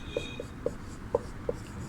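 Chalk or marker strokes on a classroom board, several short soft taps and scratches in an irregular rhythm, faint and close against a quiet room background.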